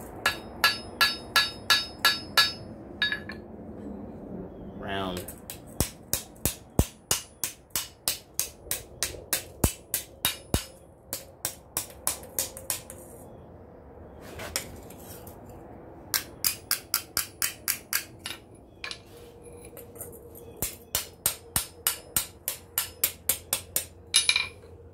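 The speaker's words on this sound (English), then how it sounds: "Use my rounded side of my hammer here." Steel hammer blows ring on an anvil while a serving spoon is forged with the rounded face of the hammer, in fast repeated bursts of sharp metallic strikes separated by brief pauses, loud and close.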